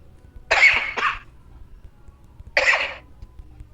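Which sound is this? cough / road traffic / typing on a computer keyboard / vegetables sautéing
cough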